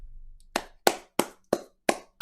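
Six sharp hand claps at a steady, slightly slow pace, close and crisp, each ringing briefly into a quiet room with no talk.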